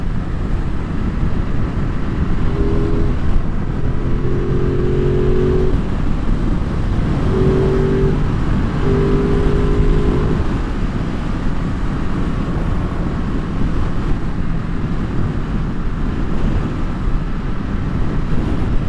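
A 2022 Ducati Monster+ engine drones steadily under riding, loud and continuous, mixed with rushing wind noise and a few brief tonal shifts as the revs change, with no voices.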